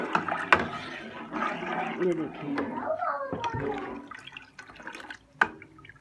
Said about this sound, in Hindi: अब हम इसमें तकरीबन 2 लीटर पानी ऐड करेंगे और इसको पकने के लिए रख देंगे